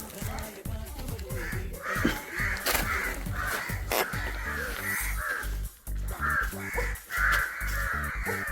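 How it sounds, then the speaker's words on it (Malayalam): Crows cawing close by and repeatedly, a run of harsh rhythmic caws from several birds that continues almost without pause throughout. "ഇവിടെ മൊത്തം കാക്ക കേട്ടോ."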